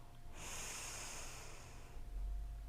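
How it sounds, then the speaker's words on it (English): A slow yoga breath during a hip-stretching flow: a soft, airy rush of air drawn in steadily and held for a couple of seconds, close and alone with no talk. "Take an inhale on 1, let go on 2, breath in on 3"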